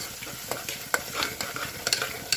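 A spoon scrapes and stirs spiced masala with turmeric and salt around a hot pan, giving repeated soft clinks and scrapes over a low sizzle, close and fairly quiet, with no talk.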